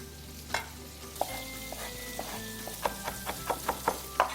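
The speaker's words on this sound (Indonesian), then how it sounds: "Masukkan tomatnya dalam tumisan. Kita aduk rata." Tomatoes being stirred into rice sizzling in margarine for a tomato fried rice dish, with repeated scraping clicks of a utensil against the pan over a steady low frying hiss, growing busier toward the end.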